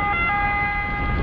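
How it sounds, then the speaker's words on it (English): An ambulance siren passes on a road near Lake Como, Italy, during a bike ride, sounding as a loud, close, steady high tone over low road rumble. "Okay, we're gonna have another ambulance coming."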